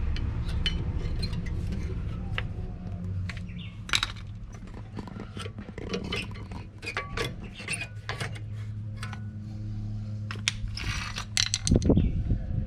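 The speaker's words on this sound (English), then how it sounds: "Removing the brake pads." Rear brake pads come off a 2010 Toyota RAV4, with close metallic clicks, scrapes and clinks of parts and tools scattered irregularly over a low background hum, including a louder rattle near the end.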